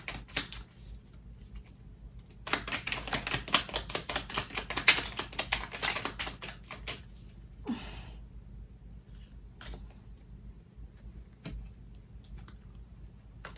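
Tarot cards being shuffled in bursts of rapid, dense riffling clicks, loudest in the middle, then scattered softer taps and quiet pauses.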